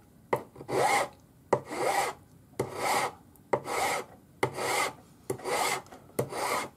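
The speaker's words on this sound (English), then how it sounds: "If you've made it slightly big, you can just file the top." A metal file scraping across the top of a cone ring braced against a bench peg, in about seven steady rasping strokes with a short pause before each. Close and fairly quiet, with no talking.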